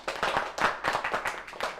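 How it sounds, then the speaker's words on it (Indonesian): A church class audience claps together for about two seconds, a burst of fairly close, irregular hand claps with no talk over it. "Tepuk tangan buat dia."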